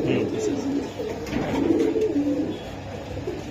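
A flock of pigeons offered for sale, racers, Kaldom, Giribaz and fancy breeds, coo continuously close by, their throaty rolling calls layered and rising and falling without pause.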